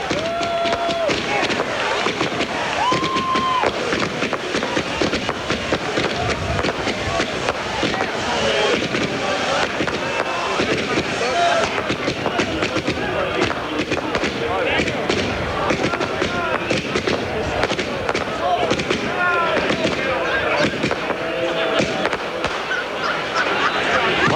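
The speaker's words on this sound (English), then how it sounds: "And the celebration and the fireworks begin." Fireworks crackle and pop over a crowd celebrating a win at a Daytona night race, a dense continuous barrage of bangs under a commentator's voice and constant crowd roar.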